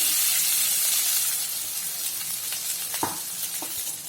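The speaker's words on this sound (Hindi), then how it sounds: "एक बार मिक्स करेंगे, थोड़ा सा भूनेंगे हल्दी डालने के बाद" Rice tossed with turmeric sizzles steadily in a hot pan for lemon rice, a dense continuous frying hiss with a couple of soft stirring scrapes near the end and no voices.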